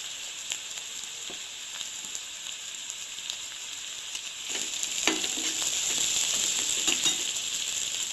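Rajma (kidney bean) masala sautéing in a pan, a steady bright sizzle with scattered stirring clicks and scrapes that grows louder and busier in the second half.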